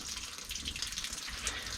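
Water pours steadily over soil in bonsai seed pots, a continuous close splashing and trickling with a hissy, bright texture and no talking.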